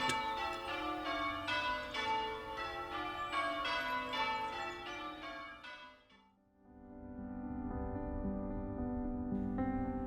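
Church bells ring out at St Lawrence, Chobham, a ring including a tenor bell of 10 hundredweight, rapid successive strikes blending into a rich resonant wash that fades, then a slower, lower series of tolls rising again.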